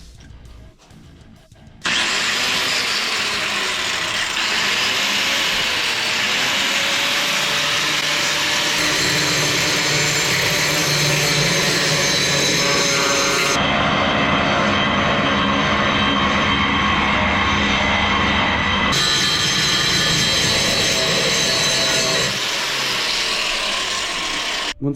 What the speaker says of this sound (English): we're going to go like this with the grinder and get all this gray paint off of it along with the Sharpie